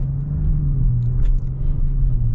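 A 2022 Range Rover Westminster with a BMW powertrain pulls away under steady low-end throttle, its deep engine rumble droning evenly and close for a couple of seconds with no voices.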